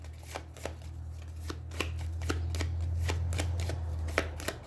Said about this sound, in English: allowing me to take this first card, the player 1 card, and shuffle it back into the turn order deck